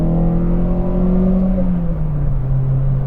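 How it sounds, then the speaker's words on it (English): The engine of a 140-horsepower Nissan B14 200SX SE-R revs freely in second gear, a loud, close, steady whine and drone that holds and shifts slightly in pitch throughout. "It's 140 horsepower, but man, it revs nice and free"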